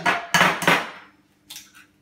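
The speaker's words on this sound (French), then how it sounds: "Je vais les casser dans un bol, hyper facile." Eggs cracked against a bowl in a home kitchen: three quick sharp knocks in a row, then a softer pair of taps after a short pause, close and clear.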